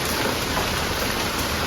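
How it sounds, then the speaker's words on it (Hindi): Rain falls outside in a steady, dense hiss of drops, constant and moderately loud, with no voices or other sounds over it. "तो बारिश भर चुकी है"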